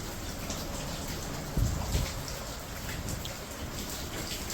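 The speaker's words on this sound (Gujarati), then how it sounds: "હજી વરસાદ કન્ટિન્યુઅસલી ચાલુ જ છે" Steady rain patters continuously in a soft, even hiss, with a couple of brief louder splashes partway through.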